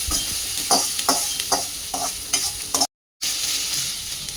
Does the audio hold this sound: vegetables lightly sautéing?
yes